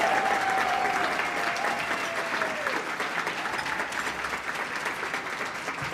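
An audience at a community awards ceremony applauding a volunteer award winner, a dense, sustained round of clapping that fills the hall at a steady level and tapers slightly toward the end.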